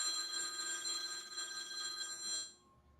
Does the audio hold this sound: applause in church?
no